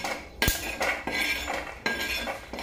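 Roasted peanuts are scooped from a pan onto a plate, with repeated close metallic scrapes and clinks of a spoon against cookware, several sharp knocks spaced irregularly over a steady rustle.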